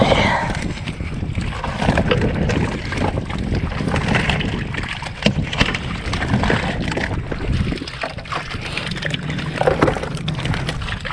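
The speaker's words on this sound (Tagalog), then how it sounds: "Buhos muna natin mga bro sa bangka." Fish, including tilapia, poured into a boat on a lake: a continuous loud watery rushing and splashing clatter lasting throughout, close by, with someone talking over it.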